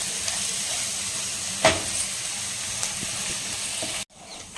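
Ingredients for an oil-brinjal gravy spice paste roast in a pan with a steady, close sizzling hiss, broken by a single clank of a utensil, before the sound cuts off abruptly near the end.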